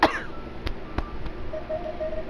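A person coughs once, sharp and close at the very start, followed by a few soft clicks and a low steady background hum.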